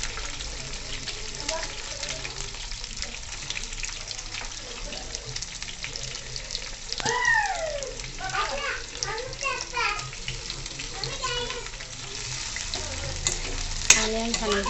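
Onions are shallow fried with green chillies in oil as the base of a chicken gravy, a steady close sizzle with occasional stirring, while a child and an adult talk over it throughout.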